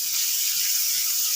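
Onion sizzles and hisses steadily in hot oil for mash dal, a continuous close frying hiss with no voices.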